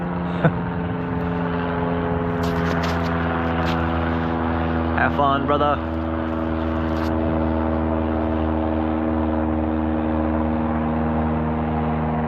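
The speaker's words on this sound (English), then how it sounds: "we'll just watch this airplane fly by" A steady, droning engine hum holds throughout, like a propeller plane passing overhead, with a short spoken phrase partway through.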